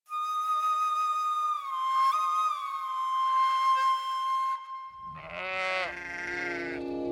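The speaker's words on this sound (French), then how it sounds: "Il appelle des moutons qui accourent vers lui." A shepherd plays a long, clear melody on a wooden flute in mountain pastures. It then gives way to a flock of sheep bleating loudly and close together, several wavering calls overlapping.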